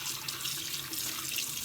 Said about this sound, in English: I let you rinse them on both sides so your water runs clear.